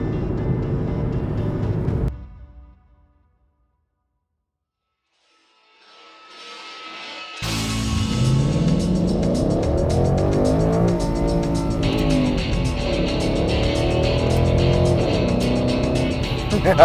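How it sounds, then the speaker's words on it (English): A Ford Mustang GT does burnouts with its rear tires spinning. A brief engine sound fades to silence, then the V8 roars back loud and sustained, its pitch rising and falling as it revs, with a screeching hiss on top. "Mustang GT burnouts."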